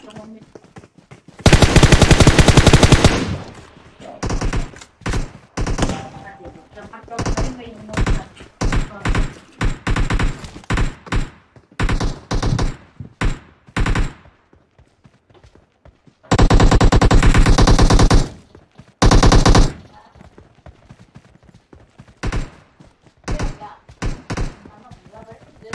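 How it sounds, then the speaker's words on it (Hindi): Machine gun fire in PUBG Mobile zombie mode, loud sustained bursts alternating with quick single and short-burst shots, with someone talking in Hindi over the gameplay. "यहाँ पे मशीन गन है ब्रो इन्हीं मशीन गन"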